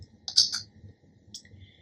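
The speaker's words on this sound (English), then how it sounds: "Now I'm going to click save." A computer mouse clicks in Ricoma embroidery software, with a few short sharp clicks close by in a quiet room.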